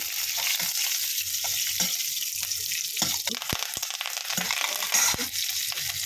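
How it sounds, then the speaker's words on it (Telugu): Mustard seeds, cumin, urad dal and dried red chillies tempering in hot oil for an amaranth-leaf curry, a loud steady sizzle with scattered pops and crackles and a few clinks of stirring, no talk. "ఈ తాలింపు వేసుకుంటున్నాం కదా తోటకూరలోకి"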